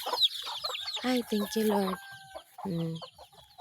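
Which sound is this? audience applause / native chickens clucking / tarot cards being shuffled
native chickens clucking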